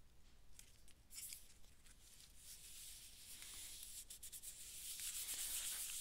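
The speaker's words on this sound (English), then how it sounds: "I'm making sure I get that glue stick all the way to the very, very edges of the design." A glue stick is rubbed firmly over thick cardstock out to the edges of a mandala design, a soft scratchy friction sound in quick repeated strokes that grows gradually louder and denser, close up and quiet with no talking.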